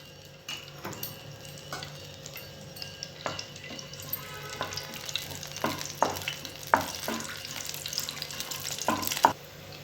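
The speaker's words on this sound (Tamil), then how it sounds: "இதில் நம்ம ஒரு 10-15 போல் முந்திரி பருப்பு சேர்த்து லைட்டாக நம்ம ரோஸ்ட் பண்ணி எடுத்துக்கலாம்." About ten to fifteen cashew nuts are roasting in melted ghee, giving a soft, steady sizzle as a spoon stirs and scrapes the pan in frequent light clicks, fairly quiet and with no talk.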